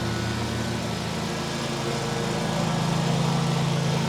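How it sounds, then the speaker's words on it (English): A lawn mower runs close by outdoors during a property survey, its steady droning engine filling all four seconds at a constant level with a slight swell near the end, no talk over it. "the lawnmower is literally mowing right by me"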